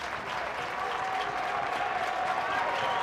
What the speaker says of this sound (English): Crowd getting loud here at Lindsey Nelson.